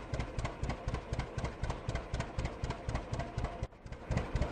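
A John Deere Model A tractor engine idles in Farming Simulator 17, a steady, loud, low chugging with a regular pulsing beat and slight rattle, heard alone without talk.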